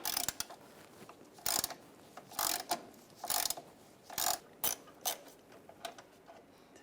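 A 13mm socket ratchet works nuts off a bracket on the frame of a 1999-2006 Chevrolet Silverado 1500 with a 4.8L V8, giving quiet irregular clicking bursts with short pauses between them.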